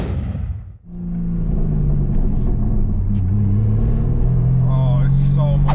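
BMW M4 G82 with its S58 engine and exhaust valves fully open rumbles steadily at close range, rising from a brief dip into a sustained deep drone with a few higher revs near the end, in heavy rain.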